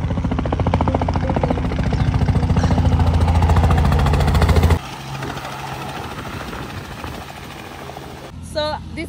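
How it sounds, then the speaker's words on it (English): Loud rhythmic rotor thumping of a landing helicopter fills the first half, then drops away to a lower rumble with faint voices underneath. "now we are waiting the helicopter to land."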